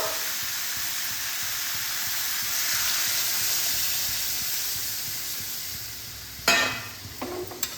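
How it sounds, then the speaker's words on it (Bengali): Water goes into a sizzling drumstick curry in a pan, a steady steamy hiss that ends in a sudden splashing burst and a few clinks near the end, close up. "এবার আমি এর মধ্যে জল অ্যাড করে দেব"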